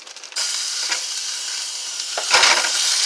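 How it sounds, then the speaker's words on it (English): Ground beef and garlic sizzle loudly in a hot skillet, a steady close hiss that flares up briefly near the end, with no talking. "You can already hear the sizzle on the skillet."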